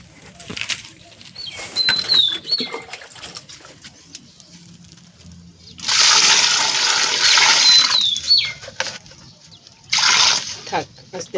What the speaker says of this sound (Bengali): তো এখন একদম পুরো জল দিয়ে, বেশি করে জল দিয়ে দেবো।